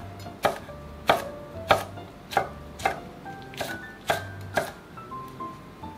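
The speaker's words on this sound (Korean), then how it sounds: "청양고추, 홍고추도 어슷어슷 잘라주세요." A knife chops through green and red chili peppers, sliced on the diagonal on a cutting board while making a kimchi stew, giving about ten close, crisp, evenly spaced taps with no talking.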